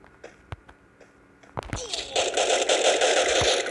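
Automatic gunfire from the Free Fire video game in a ranked Clash Squad match, a sustained rapid burst starting partway through after a few sharp isolated shots, loud and dense with a faint voice early on.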